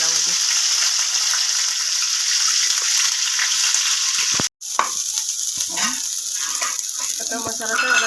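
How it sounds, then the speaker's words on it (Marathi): Ground onion, tomato, ginger and garlic paste sizzles and fries in hot oil for a vegetable and paneer curry, a steady loud crackle with a brief cutoff midway, then stirring and softer sizzling. "आता त्याच्यात वाटण वाटलेलं कांदा टोमॅटो आलं लसूण टाकून घ्यायचं तेलामध्ये"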